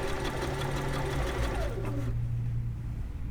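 Sewing machine stitching an invisible zipper into a garment, a steady close mechanical whir that runs for about two seconds and then winds down to a lower hum.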